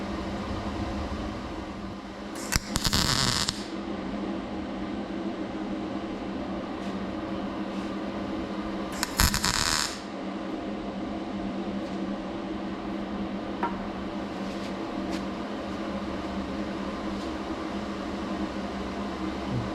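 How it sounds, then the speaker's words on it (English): Two short crackling bursts of tack welding on rusty parts for an early Bronco antenna rebuild, each about a second long and spaced several seconds apart over a steady fan-like hum. "time to weld"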